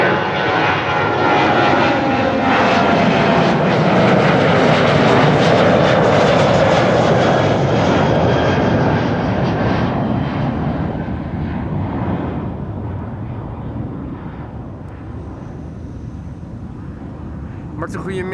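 A Transavia airliner departs Amsterdam Schiphol for Pisa, its jet engines a loud, sustained roar that slowly fades as it climbs away, with a faint hiss lingering at the end.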